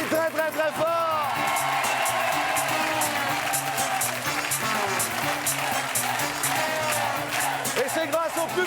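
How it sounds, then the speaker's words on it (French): A studio audience on the French TV game show Attention à la marche applauds loudly, a dense, steady wash of clapping that fills the whole stretch alongside show music and voices. "On l'applaudit très très très fort!"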